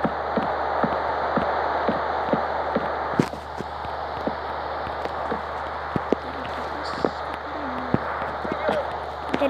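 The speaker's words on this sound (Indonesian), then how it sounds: "Hujan terus guys." Steady rain hiss in a video game while building a Krusty Krab restaurant, a continuous wash with scattered small ticks and taps running throughout.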